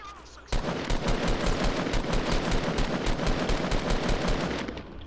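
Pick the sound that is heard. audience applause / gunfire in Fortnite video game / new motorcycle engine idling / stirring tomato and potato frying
gunfire in Fortnite video game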